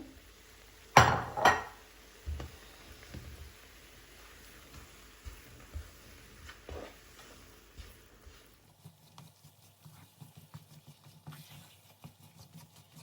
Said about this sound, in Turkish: Unumuz kahverengi olana kadar kavurmaya devam edeceğiz